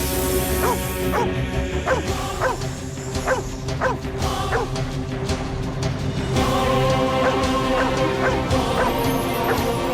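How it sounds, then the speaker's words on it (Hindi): A dog barks in a rapid series of sharp, loud barks heard indoors, set over a dense, continuous bed of dramatic music. "अब हमें देखकर भौंक रहा है।"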